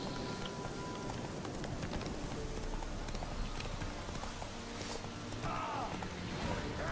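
Horse hooves clip-clop steadily while riding in the video game The Witcher 3, a continuous rhythmic trot over game ambience, with brief creaks and no speech.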